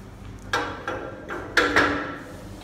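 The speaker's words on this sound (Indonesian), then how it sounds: "kita tutup lagi menggunakan penutup direct shear box" Lid of a direct shear box rock testing apparatus being fitted and closed, giving four sharp, close knocks spaced about a third to half a second apart, the last two louder, with no voices.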